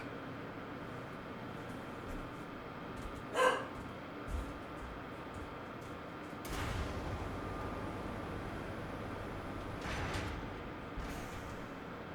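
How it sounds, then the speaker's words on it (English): A single dog barks once, loud and close, with a second softer yip shortly after, set against a steady low background hum with no speech. "She's barking at something stupid."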